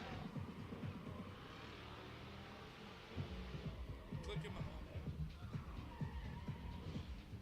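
Drift car engine revving at high RPM with tires spinning and smoking, a rough, pulsing roar that rises and stays loud through the stretch, with voices and crowd noise mixed in at a drift pit at night.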